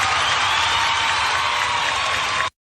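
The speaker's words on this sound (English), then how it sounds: "Nice applause" Dense, steady audience applause mixed with crowd cheering for a special guest, loud and continuous before cutting off abruptly.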